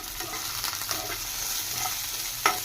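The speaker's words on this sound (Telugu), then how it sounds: "పచ్చిమిర్చి వేసుకున్న తర్వాత ఇందులోనే నేను 1/2 స్పూన్ ధనియాలు, కొంచెం జీలకర్ర వేసుకొని ఇది కూడా దూరగా ఫ్రై చేసుకుందాం" Green chillies, coriander seeds and cumin fry in a pan for a Nellore-style tamarind-leaf and peanut chutney, giving a faint, steady sizzle with a few soft stirring scrapes and a brief clink near the end.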